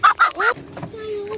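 Hens of mixed breeds, an Australorp, Silver Lace Wyandottes and a lavender mix, call out in three loud, honking squawks close by, followed by a softer, drawn-out cluck that fades.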